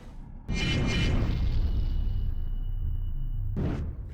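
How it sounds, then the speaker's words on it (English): The Ill-Timed Explosion card resolves in a Magic: The Gathering video game with a sudden loud booming blast that rumbles and slowly fades, followed by a brief whoosh near the end. "so now we can go for ill-timed explosion, make some dragons"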